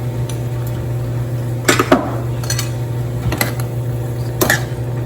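A spoon clinks and scrapes against a pot while garam masala and spices are stirred into mushroom mutter, a few sharp metallic knocks over a steady kitchen hum.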